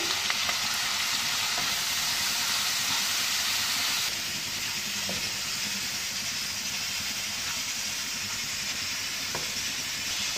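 Mutton and spices are stirred together in a hot pan for mutton gravy, giving a steady, moderate sizzle with occasional scraping stir sounds, continuous and close, slightly softening partway through, with no talking.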